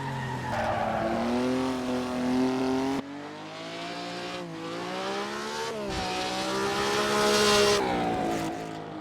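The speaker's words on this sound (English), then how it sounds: "the oldest car to ever take on the power lap, the Maserati 250F" A Maserati 250F racing car with a 12-cylinder, 310-horsepower engine drives on a soaked wet track, its engine droning steadily with rising and falling pitch as it shifts gears, no voices.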